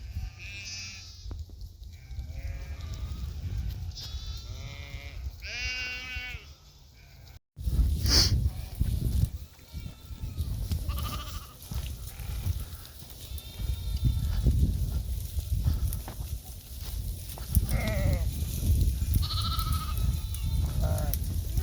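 Sheep and goats bleat repeatedly in a Warsaw-area forest, wavering calls from several animals at close and middle distance, overlapping at times over a rumbling outdoor background, with a brief break partway through.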